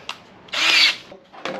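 A power drill spins a bolt ground square at one end to turn a generator's flywheel, a surging generator being repaired: a short tap, then a loud high whirring burst of about half a second, and a second brief whir.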